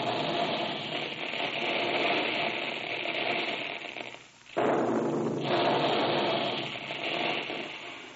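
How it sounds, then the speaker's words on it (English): A continuous dense roar of big guns firing, used as a radio ad effect for Quaker Puffed Wheat and Puffed Rice cereals in an old-time radio broadcast. It is loud and sustained, with a brief dip midway before the roar resumes. "Hear those big guns?"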